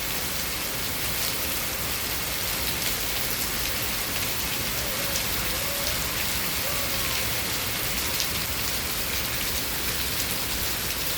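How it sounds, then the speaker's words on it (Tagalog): Heavy rain pours down steadily in Sham Shui Po, Hong Kong, a dense hiss of drops drumming on surfaces, loud and close with no break. "Grabe, lakas ng ulan."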